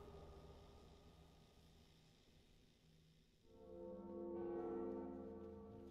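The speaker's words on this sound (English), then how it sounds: "ring the first bell" A large bell in the video game Dark Souls is rung, sending out a deep, resonant tolling that swells after a quieter ambient stretch and sustains with a long ringing decay, with no talk over it.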